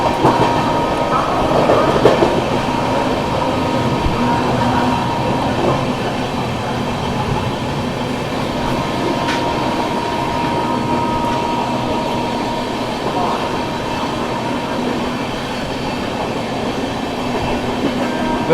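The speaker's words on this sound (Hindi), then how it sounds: "यहाँ पर अपनी शानदार राजधानी स्किप कर रही है प्रयागराज जंक्शन को। गजब की रफ्तार में भाई।" The Sealdah New Delhi Rajdhani Express runs at high speed through Prayagraj Junction without stopping, a steady loud rolling roar with rail clatter and wheel noise that holds for the whole stretch and fades only slightly.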